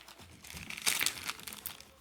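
A plastic bag holding board game tokens for an Eleven Football Manager board game crinkles briefly and softly up close, with a quick louder rustle in the middle.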